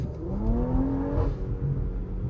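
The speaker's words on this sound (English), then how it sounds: "It's got a nice percussive little exhaust note on the back end, nice pops and cracks" A 2022 Porsche Macan GTS engine hums steadily from inside the cabin with windows up, its exhaust note rising in pitch as it accelerates, then settling into a low, even drone.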